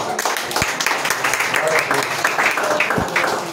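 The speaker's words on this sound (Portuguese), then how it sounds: "e as palmas para o Senhor Jesus" A church congregation applauds for Jesus in dense, continuous clapping that fills the room, with occasional louder claps standing out and voices mixed in.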